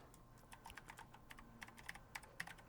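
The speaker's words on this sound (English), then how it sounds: "What you busy typing away over there? And you can hear it. Clackety clack clack clack." Mechanical keyboard with blue switches typed on steadily, a run of crisp clicky keystrokes in quick irregular rhythm, moderately close and fairly quiet, no voices.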